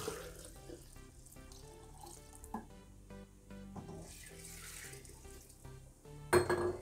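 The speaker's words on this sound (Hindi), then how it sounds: "इसमें और पानी शामिल करेंगे।" Water runs and splashes into a pressure cooker holding ground masala for Kabuli pulao, a steady faint pour under kitchen clatter, ending in a brief louder clink of metal.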